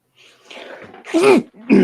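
A single abrupt sneeze, loud and close, preceded by a brief inhaling buildup.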